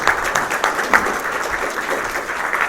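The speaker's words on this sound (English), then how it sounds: "we want to give them a round of applause" A room of attendees at a young professionals presentation claps for a supporting savings bank, a short, even burst of applause at close range with no talk.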